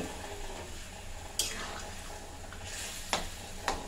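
Drumstick stalks and other vegetables for a Bengali shukto fry softly in a pan, a low sizzle broken by a few sharp stirring scrapes near the end.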